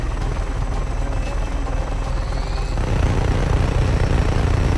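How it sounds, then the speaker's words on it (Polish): Steady loud helicopter rotor thrum with engine drone from hostile choppers in the video game Just Cause 3, swelling slightly louder partway through, with no talking. "Hostile choppers inbound."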